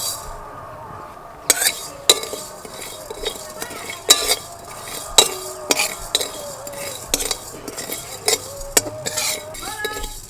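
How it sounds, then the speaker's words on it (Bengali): Cumin and coriander seeds dry-roast in a pan, stirred with a metal spoon that scrapes and clinks sharply against the pan in an uneven rhythm over a faint, light crackle. "শুকনো খোলায় জিরে আর ধনিয়া একটু ভাজিয়ে নেব"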